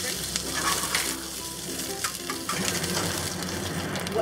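Garlic sizzling in a generous pour of hot oil in a pan over medium-high heat, a loud, close, crackling hiss that runs without a break and has stirring scrapes mixed in.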